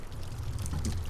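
Small water splash and bubbling of a fishing bobber in Minecraft as a fish bites, a brief gurgling patter heard alone at a modest level.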